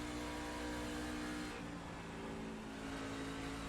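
Race car engines roar steadily in an iRacing oval race at Charlotte Motor Speedway, a dense continuous drone with a slight shift in pitch midway, no talking.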